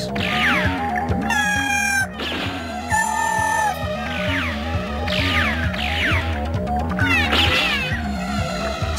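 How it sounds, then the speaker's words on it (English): Cartoon dolphins in an animated sci-fi series call out in a run of squeaky, rising whistles and chirps, repeated every second or so over a steady droning background. "Dolphins."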